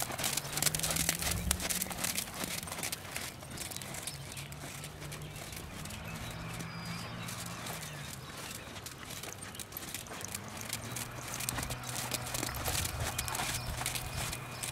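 Horse hooves clip-clop steadily on an arena surface during a riding lesson, a continuous rhythmic footfall under faint background noise, with occasional brief low calls.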